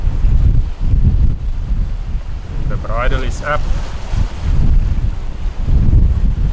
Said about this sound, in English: the highest gust that we received is 37 knots of wind